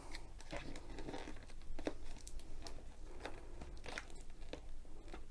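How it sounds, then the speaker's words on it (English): Scissors snip and tear through the plastic packaging of a Home Craftology diamond painting kit, giving a steady crinkling and crunching close up, with no one speaking. "So I'll cut along here to open it a bit easier."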